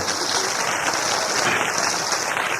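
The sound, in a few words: audience applause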